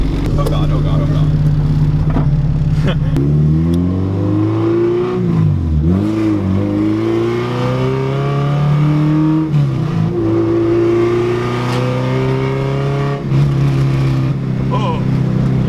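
Very loud K-swapped Honda EG car engine and exhaust, revving with pitch sweeping up and down through several blips, raspy and close, with a voice talking over it at times.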